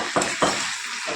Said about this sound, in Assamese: মাংস পূৰা ভাজি আছোঁ এয়া জুইটো কম কৰি কেনে পূৰা ভাজি আছোঁ